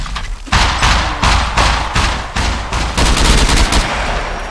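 Video game gunfire, a loud, close burst of rapid shots fired in a steady rhythm, roughly a dozen sharp cracks in a few seconds, with no talking.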